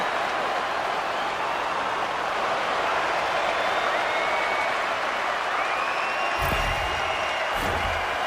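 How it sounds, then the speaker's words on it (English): An arena crowd roars steadily after a goal in an NHL hockey video game, a dense, loud wall of cheering and applause with a few whistles rising out of it and thuds near the end. "You can feel the energy in this crowd."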